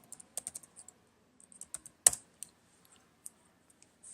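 Scattered computer keyboard keystrokes come in quick bursts and single clicks, close and crisp against quiet, with one sharper strike in the middle.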